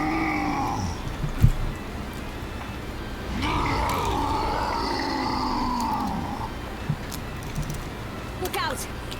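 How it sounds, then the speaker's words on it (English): A cat in the game Ys X giving drawn-out, wavering meows and growling yowls, fairly loud and close, mixed with game sounds and a brief voice. "Don't you try to steal my stuff, cat."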